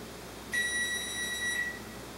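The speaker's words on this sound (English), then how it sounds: "timer's ready, or the oven's ready" A single high electronic oven timer beep sounds for about a second, faint and steady against quiet background noise.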